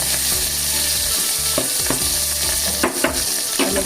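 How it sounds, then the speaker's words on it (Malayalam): Curry leaves frying in hot oil for a traditional Kerala chicken curry, a steady loud sizzle with crackling bursts and a few scraping stirs, close up with no talk. "കറിവേപ്പില ഇടുക. കറിവേപ്പില ഒന്ന് മൂത്ത് വരുമ്പോൾ"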